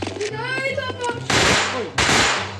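Gunfire in a Minecraft horror mod game: two loud, close bursts of rapid shots break in after a tonal, voice-like passage, each burst cutting off sharply.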